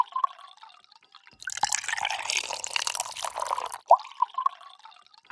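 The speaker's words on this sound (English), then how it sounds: "obviously we need to hear some liquid pouring" Apple juice pours into a glass in a short burst of splashing, bubbling liquid, framed by soft trickles and drips before and after, close and clear with no talking.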